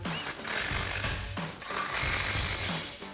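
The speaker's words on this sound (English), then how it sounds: "we're gonna grab our impact and 19mm deep socket and tighten those 2 down" Impact wrench with a 19mm deep socket tightening two bolts on a Ford F-150 front coil-over shock install, firing in two loud rattling bursts separated by a brief pause, close by.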